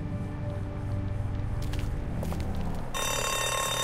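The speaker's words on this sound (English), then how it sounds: "And that is the alarm." An alarm ringing in The Walking Dead video game, starting abruptly as a loud, continuous harsh electronic ring over the game's background music.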